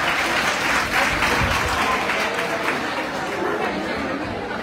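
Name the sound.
audience applause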